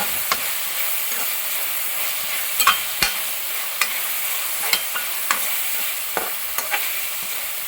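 Sliced onions sautéing in a pan for a Kerala-style chicken stew, a continuous soft sizzle broken by regular sharp clicks and scrapes of a spoon stirring, near and without voices.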